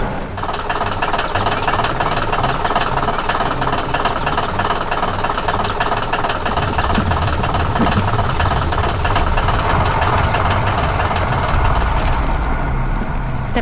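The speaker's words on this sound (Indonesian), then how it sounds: "Terdengar suara mesin yang bekerja keras" A yellow excavator's engine labours while digging soil: a loud, continuous, rough diesel drone with a knocking, mechanical rattle, close and steady throughout, no voices.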